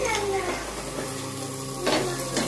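Fish frying in a pan gives a steady, close sizzle that runs through the whole stretch, with a couple of brief louder bursts of crackle near the end.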